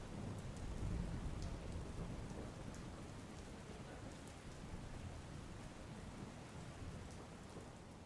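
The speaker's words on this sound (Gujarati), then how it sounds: "પંથકમાં ધોધમાર વરસાદ વરસ્યો હતો" Heavy rain pours steadily in Dhoraji, Rajkot, with a dense, hissing wash, a low rumble beneath it and no voices.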